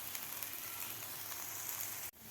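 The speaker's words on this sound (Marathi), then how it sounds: "आता व्यवस्थित आपल्याला दोन्ही साईडकडून थोडासा ब्राऊन कलर होईपर्यंत आपल्याला हे बाईट्स व्यवस्थित फ्राय करून घ्यायचे आहेत" Aloo bites, small potato snacks, fry over medium heat in a pan with a faint, steady hissing sizzle that is briefly interrupted by a soft knock near the end. Nobody speaks.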